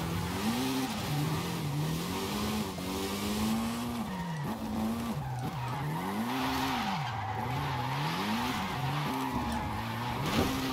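A car slides around corners on the handbrake, its engine revving and pitch swooping up and down over a steady skid and tyre hiss, loud and continuous with no talking.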